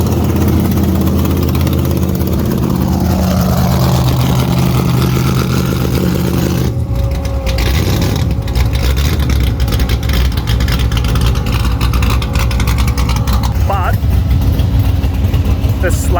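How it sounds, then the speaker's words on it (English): Engine idling with an exhaust leak that gives it a chugging, tractor-like note; the steady low rumble runs throughout, loud and close, with a shift partway through as if the pitch or load changes. "Hear this exhaust leak, it sounds so funny"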